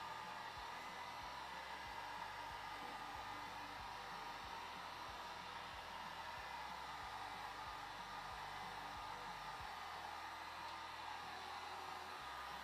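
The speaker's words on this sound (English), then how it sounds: "Using the heat gun to heat the shop a little bit now" A heat gun blows steadily in a woodworking shop, warming the space with a continuous, even broadband whoosh and a low fan hum that holds at a constant level throughout, with no voices.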